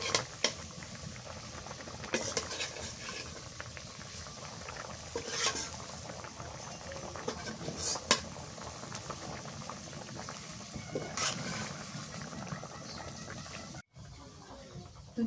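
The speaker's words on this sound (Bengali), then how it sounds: "এবার মাছ দিয়ে দিই তরকারি বলে ফুটে গেছে" Fish curry boils in a pot over a village-style cooking fire in winter, with a steady, soft bubbling and occasional louder pops, ending in a brief cut near the close.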